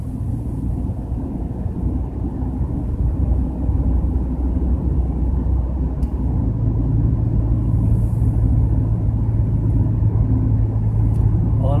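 A Subaru with about 155k miles on a test drive, heard as a steady, loud interior engine and road rumble with some wind noise and no talking throughout.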